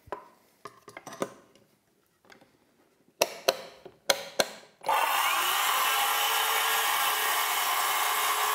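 A handheld circular saw cuts wood along a freshly cut strip used as a guide; a few sharp handling knocks and clicks come first, then the saw roars in loud and steady until the end.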